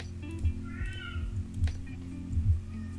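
A lonely house cat meowing once, a drawn-out wavering cry in the middle, heard over a steady low hum and faint background noise.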